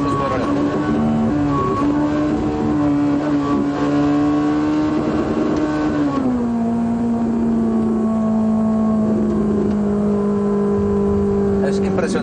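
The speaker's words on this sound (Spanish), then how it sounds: "el sonido de este motor" A Ferrari 458 Italia engine revs hard and climbs steadily in pitch, then drops with a gear change and pulls again at a lower tone, loud, close and continuous.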